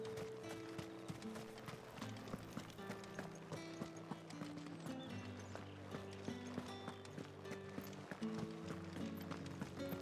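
Fast, steady clip-clop of a running ostrich mount's footsteps in Final Fantasy XVI on PlayStation 5, continuous over a bed of musical background tones.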